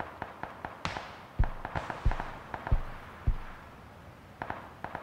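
Scattered gunshots in a multiplayer shooter game, a dozen irregular sharp cracks and thuds of varying loudness, some distant and some closer, spread over a few seconds with no talk.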